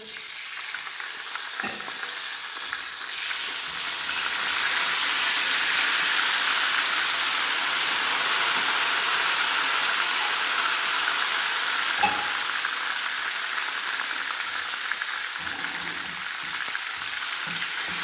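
Steady hot-oil sizzling of spices tempering for kadhi pakora crackles continuously, with occasional sharper pops and spatters, close and fairly loud, with no talking.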